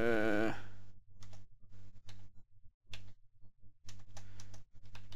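Keys clatter on a computer keyboard in quick uneven bursts with short pauses, close and moderately loud, while a Minecraft-style build tutorial plays; a brief tonal sound opens the stretch before the typing starts.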